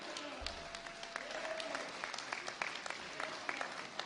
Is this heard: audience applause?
yes